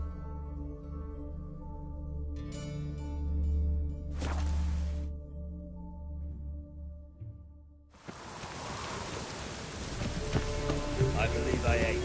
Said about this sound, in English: Even the rain smells different here.